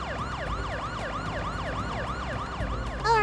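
In-game wailing siren from Parasite Eve, a rapid rising-and-falling electronic yelp repeating evenly about three times a second, steady and moderately loud over a low rumble, ending in a brief burst of other noise.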